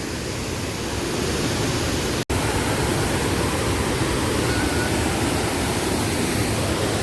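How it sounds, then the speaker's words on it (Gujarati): A natural waterfall below Galdhara dam roars as a loud, steady broadband rush of falling water, continuous and close, with a momentary dropout partway through. "અને આજે છે નેચરલ ધોધ"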